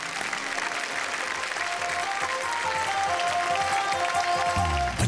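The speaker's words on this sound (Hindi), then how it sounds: "जोरदार तालियों के साथ" Loud, dense applause from a stage-show audience, steady and sustained throughout with no pause, swelling slightly toward the end.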